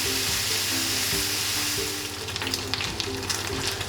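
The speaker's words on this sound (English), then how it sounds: "Let's saute them until it's nicely browned." Ingredients for an okonomiyaki-flavoured rice bowl sauté in a pan with a close, steady sizzle over a faint tonal hum, growing slightly crackly toward the end.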